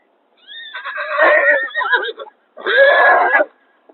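A young Marwari filly whinnies twice, close and loud: a long shrill neigh with a wavering, descending tail, a short pause, then a second shorter, brassy call.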